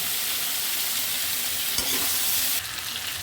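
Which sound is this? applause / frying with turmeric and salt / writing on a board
frying with turmeric and salt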